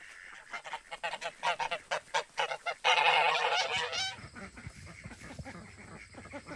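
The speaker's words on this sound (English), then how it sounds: "So this is how we free range our ducks and our geese out here in the orchard." Free-range geese and ducks in an orchard honk in a rapid run of loud calls, then a denser squawking cluster, and fainter calls and ambient noise follow.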